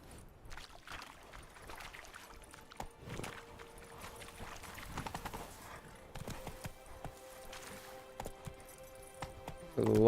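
The horse Roach gallops in The Witcher 3: Blood and Wine, with soft, quick hoofbeats pattering in a steady rhythm amid faint trickling ambience.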